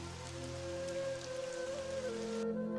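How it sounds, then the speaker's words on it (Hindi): Heavy rain pours steadily through the night in a Hindi animated cartoon, a dense, unbroken downpour with soft musical tones drifting over it. "सारी रात बारिश झमझम बरसती है"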